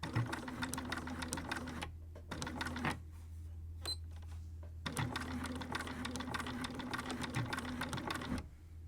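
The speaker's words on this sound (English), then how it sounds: "I'm going to back stitch right in here" A domestic sewing machine back stitching inside a fabric dart on a colour-blocked top, running in steady motor bursts with brief pauses between stitching passes, close and clear with no talk.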